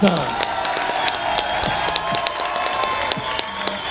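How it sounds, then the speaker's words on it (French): Crowd applauding cyclist Wout van Aert at the Paris–Roubaix team presentation in Compiègne, scattered clapping and cheers under a loudspeaker announcer's talk, outdoors with some echo. "Wout van Aert, très applaudi bien évidemment ici du côté de Compiègne."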